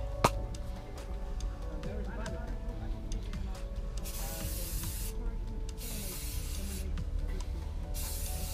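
Short bursts of hairspray hiss in a room, one after another, over faint background noise, with a sharp click near the start and no talk.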